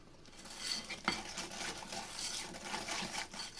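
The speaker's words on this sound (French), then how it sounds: "je vais prendre mon fouet. Je vais y intégrer mon sucre." A whisk works sugar into brownie batter in a bowl, making soft, continuous rhythmic scraping and clicking against the bowl, fairly quiet and close.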